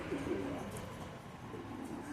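Pigeons coo softly in a pigeon loft, low repeated throaty calls over a quiet background with faint rustling.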